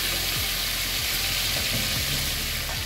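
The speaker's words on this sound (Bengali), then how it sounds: "হালকা ভেজে চিংড়ি মাছগুলো তুলে নিচ্ছি।" Prawns fry lightly in hot oil, giving a continuous close hiss of sizzling with faint soft bubbling beneath it and no talk.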